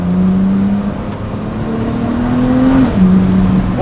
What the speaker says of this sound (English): you can hear the turbo spooling and through the exhaust with those downpipes fitted